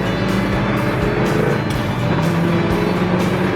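A Ford Mustang GT coupe on a test drive, its engine a steady, close, low drone with a faint rhythmic pulse under the cabin noise, and no voices.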